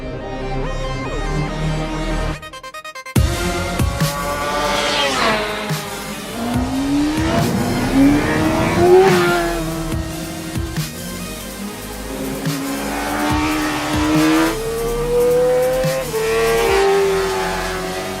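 Yamaha YZF R6 600cc sport motorcycle on a race track, its high-revving engine climbing and dropping through gear changes with loud rising pitch sweeps, close and continuous for most of the clip after a brief cut near the start.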